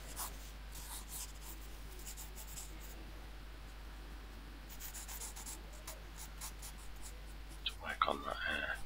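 Pencil or pen drawing Venom on paper, with a soft, steady scratching and rubbing of the tip that runs quietly throughout, a few brighter strokes near the end.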